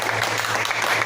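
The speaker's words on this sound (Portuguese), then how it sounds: "Dê a Ele um forte aplauso" A church congregation applauds during a worship service, a brief burst of dense clapping at steady loudness with a low hum beneath.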